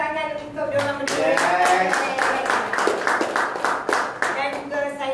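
An audience claps hands in a steady stream of sharp, fairly loud claps, running beneath a voice talking throughout.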